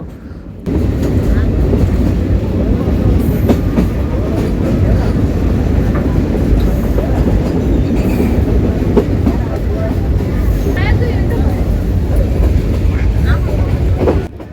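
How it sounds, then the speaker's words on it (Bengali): Steady loud rumble and rhythmic rail clatter of a moving train in Narsingdi, Bangladesh, heard from inside, continuous throughout with a low hum underneath. "আমরা ট্রেনে করে যাচ্ছি"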